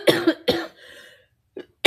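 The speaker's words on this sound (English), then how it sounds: "I still have this annoying cough" Two sharp coughs in quick succession, followed by a faint murmur and another short cough burst at the end, close to the listener.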